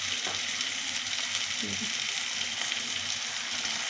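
Spice paste of ground ginger, cumin and coriander fries with browned onion and garlic for a pea ghugni, giving a soft, continuous hiss and crackle at low volume throughout.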